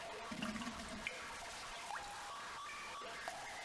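Eerie ambience from the horror adventure game Harvester, with a wet, gurgling water rush and scattered dripping, plus faint electric crackles and a thin rising whine, all at a low level.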